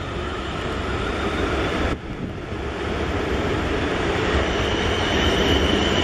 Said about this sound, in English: I guess the Alton bound train.